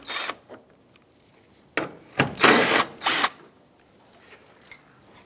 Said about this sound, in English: You're going to use a 10mm socket. Take out this bolt and that bolt.